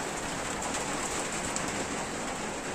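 Rain falls steadily on a pigeon loft, a dense continuous hiss of drops on surfaces with no pauses, filling the space at an even level.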